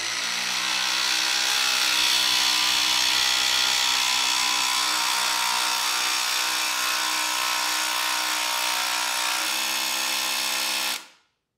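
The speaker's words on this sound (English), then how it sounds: "We're just putting it on mode 3 and going to town." A Milwaukee M12 Surge impact driver on mode 3 drives a long screw into wood without a pilot hole, giving a loud, continuous buzzing hammer for about eleven seconds before it abruptly stops.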